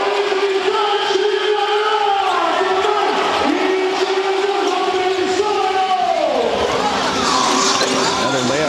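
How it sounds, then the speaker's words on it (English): A professional basketball arena crowd roars steadily after a shot from the left corner late in the game, a loud continuous wash of cheering with a commentator talking over it. "That's got the crowd going as we are under 40 seconds."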